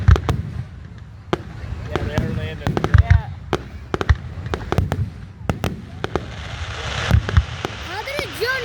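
Fireworks bang and crackle repeatedly at a fireworks and drone show in Trenton, Ontario, with whistling shells rising between pops, while people talk over the bursts.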